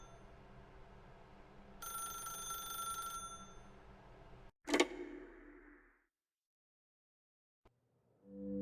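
A telephone rings in The Stanley Parable video game: a bright, steady electronic ring lasts about a second, then a sharp click or thud follows. Near silence comes next, broken only by a tiny tick, and a new tone starts at the end.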